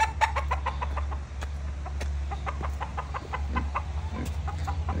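Roosters and hens cluck repeatedly at a ranch, several close birds calling in quick irregular bursts over a steady low hum, with no talking.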